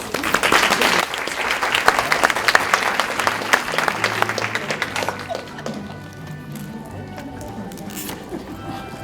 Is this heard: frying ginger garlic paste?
no